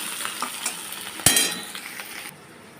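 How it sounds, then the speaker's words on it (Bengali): Small shrimp fry in a pan with a steady bright sizzle, close and fairly loud, while a spatula stirs and clinks against the metal now and then. One sharp clink stands out midway, and the sizzle drops away abruptly near the end. "এই যে ছোট চিংড়িটা আগে ভেজে নিলাম"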